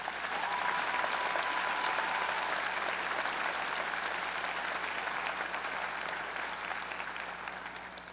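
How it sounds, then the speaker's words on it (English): A commencement audience applauds friends and family in a large hall, sustained dense clapping from many hands that holds steady for several seconds before slowly tapering. "Let's give the friends and family members here a round of applause."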